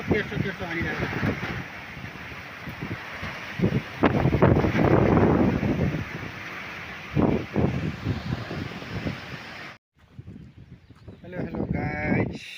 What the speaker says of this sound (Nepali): पुरै पानी र हावा चाहिँ यस्तो तेर्सो हानिरहेको छ।